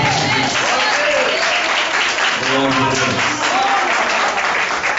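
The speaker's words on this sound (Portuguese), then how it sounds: "Dê uma salva de palmas." Church congregation applauding during a worship service, a steady, loud wash of clapping that fills the whole stretch, with voices and shouts of the congregation mixed in.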